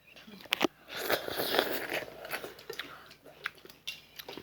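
Close, soft chewing of mushrooms, with wet crunches and small bites in an uneven rhythm and a few sharper clicks.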